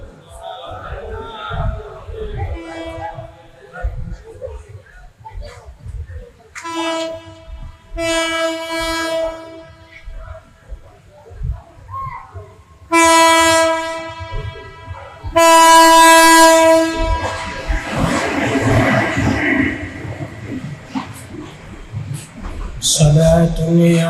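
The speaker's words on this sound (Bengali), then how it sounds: "ট্রেন আসতেছে, ট্রেনের লাইন থেকে সরে যান, ট্রেন আসতেছে" Repeated loud, long blasts of a train horn sound in bursts as a train approaches, with rumbling rail noise and crowd murmur between them and someone speaking over parts of it.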